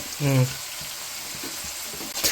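Curry leaves and dried chillies sizzle and crackle in hot oil in a pan, a steady near fry with a brief low hum near the start.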